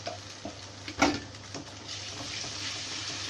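Ginger garlic paste frying in a pan, a quiet sizzle with a few sharp clicks and scrapes of stirring near the start, then a steady soft crackle.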